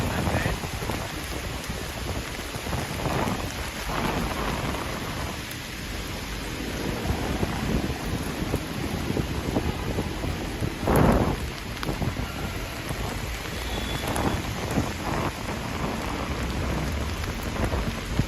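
Heavy rain falls continuously on the streets of Manhattan, New York City, a dense even hiss with a brief louder splash partway through.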